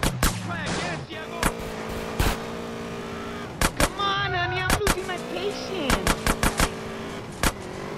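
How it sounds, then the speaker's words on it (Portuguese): Gunfire in the video game Grand Theft Auto San Andreas Definitive Edition, with sharp single shots and rapid clustered bursts over steady engine and game noise, loud and close. "Dispara no gajo."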